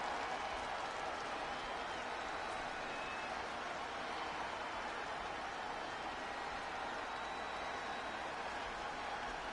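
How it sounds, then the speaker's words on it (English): At a wrestling event, a large crowd cheers and applauds in a continuous, even roar that fills the arena. "The crowd is on their feet for Jey Uso."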